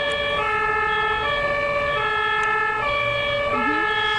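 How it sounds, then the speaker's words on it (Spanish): A loud, close ambulance siren wails continuously, alternating between two pitched tones in a regular rhythm over low traffic rumble. "cuando se escucha la sirena"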